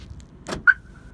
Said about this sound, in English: Oh, here's the alarm also. The Viper alarm.